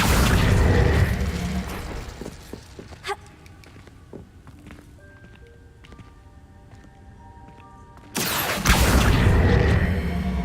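An Incendio fire spell erupts in Hogwarts Legacy, a loud roaring whoosh of flame that bursts in and holds for a couple of seconds at close range, following an earlier flare and quieter game sounds in between.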